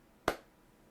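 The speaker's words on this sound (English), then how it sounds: "I clapped" A single sharp hand clap, crisp and fairly close, cutting through a quiet room and decaying fast into faint background hiss.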